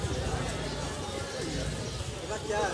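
Pigeons coo softly amid a busy pigeon market crowd, with voices talking over a constant background hum.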